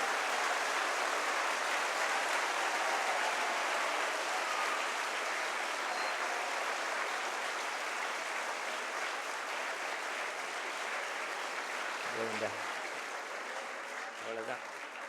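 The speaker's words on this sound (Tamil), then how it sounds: "எல்லாருக்கும் சேர்த்து ஒரு நிமிஷம் ஒரு கைத்தட்டு கொடுக்கலாமா?" Large audience of students at a motivational speech event gives sustained, dense applause that fills the hall for most of the time, fading slightly near the end as brief voices come in.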